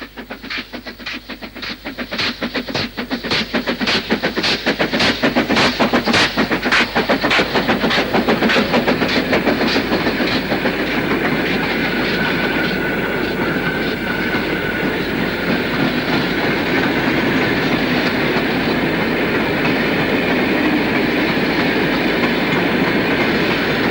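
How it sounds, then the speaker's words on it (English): LMS Black 5 steam locomotive 45493 hauls a down freight over the summit at Grey Rig on Shap. Sharp rhythmic exhaust beats come first, then merge into a loud, steady roar of rolling wagons and clattering wheels, with no voices. "LMS Black 5 45493 tops the summit at Grey Rig with a down freight."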